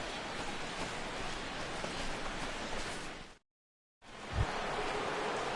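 Steady broadband hiss of rain falling over a Major League Baseball game in 2017, continuous and even with a brief dropout and a low thump near the end, no talk.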